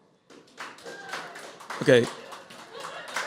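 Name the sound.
audience clapping at a comedy show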